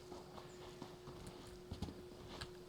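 A horse mount in a video game clip-clops along at a walking pace, its hooves tapping in an uneven rhythm, fairly quiet, with a faint tonal hum beneath and no talking.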